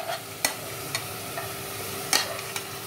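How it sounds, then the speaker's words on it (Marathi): Rice soaked with prawns and tala masala is mixed in a pot, giving a faint, steady low sizzle with a few sharp scrapes and clinks of the spoon at irregular moments, close by. "आता हे असं मिक्स करायचं आणि ह्याच्यावर झाकण ठेवायचं"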